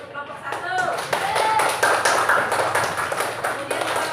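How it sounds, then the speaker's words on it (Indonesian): Classroom clapping for a student group during a teaching practice lesson, a brisk burst of many hands close by with children's voices mixed in over it. "Tepuk tangan untuk kelompok 1."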